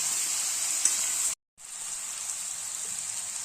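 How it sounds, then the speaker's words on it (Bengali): Squash frying with spices in a pan for a hill-vegetable dish gives a steady, bright sizzle that cuts out for a moment and then resumes, with no voices over it. "এটা কিছুক্ষণ আরও ভাজা ভাজা করে দিন"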